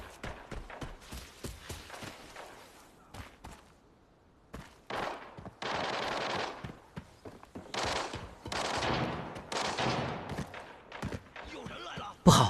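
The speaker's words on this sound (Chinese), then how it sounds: "这枪声怎么越来越近，越来越密集了" Gunfire rattles in the Arena Breakout shooter game, with scattered footstep-like taps giving way to longer dense bursts that grow louder and more frequent.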